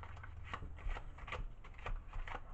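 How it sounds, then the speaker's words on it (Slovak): A deck of playing cards being shuffled during a card trick, a soft, steady papery riffling with small repeated flutters, close by and fairly quiet throughout. "A teraz karty zamiešame."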